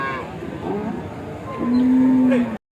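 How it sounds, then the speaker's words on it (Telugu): A Holstein Friesian cow moos once at a weekly cattle market in Gorantla, a loud, long low call close by, rising out of a bustling outdoor background. "హెచ్ఎఫ్ ఆవు"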